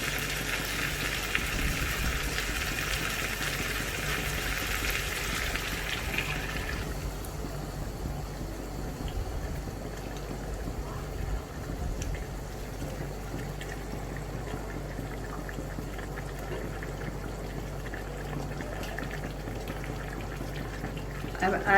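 A liter of water boiling in a cooking pot with chicken, giving a steady bubbling hiss that is brighter and busier at first, then settles into a quieter, even simmer.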